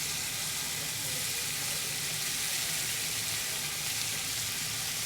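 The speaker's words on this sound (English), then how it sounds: "What you're looking for with your beef is a hard sear." Beef for a beef and kale stew searing hard in a pot, a constant dense hiss of sizzling fat, close and even with no talking.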